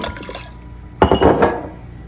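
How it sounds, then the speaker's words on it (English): Apple cider vinegar splashes from a bottle into a pot of freshly boiled water, a brief liquid pour lasting about half a second over a faint steady background. "and pour it in the pot."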